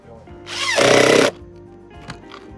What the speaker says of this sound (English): Really nice how easily these screws go in.